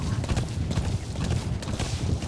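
A horse gallops in Metal Gear Solid V, its hooves giving a quick, steady clip-clop rhythm that runs continuously at moderate loudness with no talk over it.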